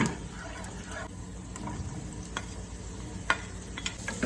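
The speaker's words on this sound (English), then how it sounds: "just saute the garlic until it's fragrant and a light brown" Garlic sautéing in olive oil in a pan for a creamy porcini mushroom pasta, a quiet, even sizzle broken by a few sharp stirring scrapes and clicks, with no voices.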